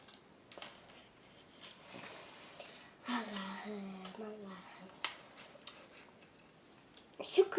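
Scissors snip at a hair clip in a few sharp, close clicks and cuts, scattered among quiet handling noise, with a person talking partway through.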